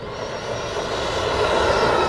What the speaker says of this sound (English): I'm gonna get a little closer on this pass so people can really see it and hear it.